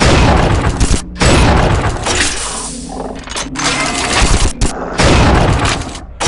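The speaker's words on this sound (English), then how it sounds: "The car's alt fire is a concentrated bolt of 5 shards that breaks up on impact and leave them bounce off walls" Alternate fire from a weapon in the Unreal 2 video game, a bolt of five shards that breaks apart on impact and ricochets off walls: loud bursts of crashing, booming shots in several blasts with brief gaps between them, no talking.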